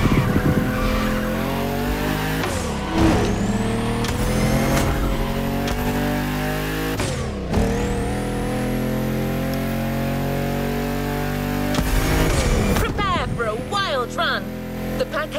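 Modded custom cars race through the streets of Honolulu at night in The Crew Motorfest, engines revving and tires squealing through skids in a loud, continuous roar, with a voice talking over the action.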